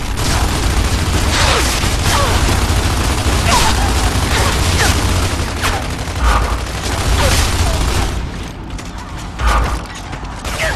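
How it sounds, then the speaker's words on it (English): A grenade blast and rapid gunfire in a shooter video game, loud, dense bursts of crackling shots and booms, with several sharp transients throughout and a short dip in intensity near the end. "Grenade!"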